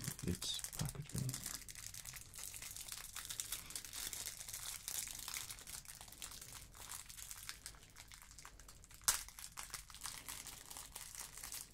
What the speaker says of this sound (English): So, we just remove this from its packaging.